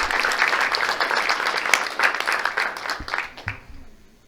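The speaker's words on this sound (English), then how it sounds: "Round of applause" A youth audience applauds as a guest speaker is called up to a motivational talk, with steady, dense clapping that holds for about three seconds, then tapers off with a few scattered claps and some low thumps.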